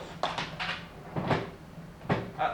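A locked wooden chest of drawers is tugged and rattled, giving several sharp knocking clunks and scraping jolts in uneven bursts, close and fairly loud, with no talking.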